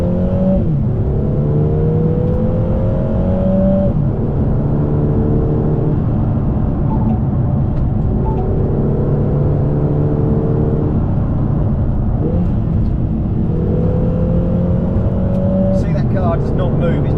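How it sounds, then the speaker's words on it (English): A Lotus Emira with a 2.0-litre four-cylinder engine drives in sports mode, its engine loud and close from inside, repeatedly revving up through the gears and dropping back with rev-matched downshifts in a steady cycle. "You can hear the car today in sports mode. It's got its rev match now when it's changing down gears."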